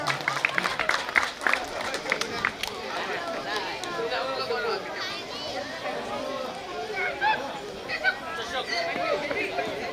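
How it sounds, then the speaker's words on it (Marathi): Audience applause and crowd chatter at a village gram panchayat felicitation ceremony, with a burst of clapping early on that settles into a steady murmur of many voices and speech. "जोरदार टाळ्या वाजवून शुभारंभाला आपण सुरुवात करायची आहे"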